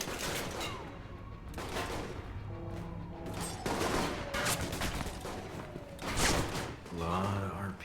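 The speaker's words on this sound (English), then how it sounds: "Why are you accidentally shooting me?" Scattered gunfire from an Alpha Protocol shootout with Russians, sharp shots popping irregularly at mid distance while voices talk over much of the exchange.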